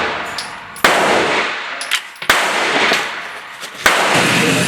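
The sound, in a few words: SRM 1216 12 gauge semi-auto shotgun firing buckshot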